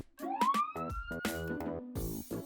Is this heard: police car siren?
yes